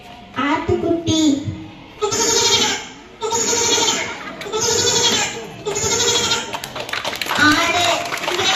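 A young girl imitates a lamb bleating, voicing a run of four or five wavering, nasal bleats separated by brief pauses, loud and close with no other sound.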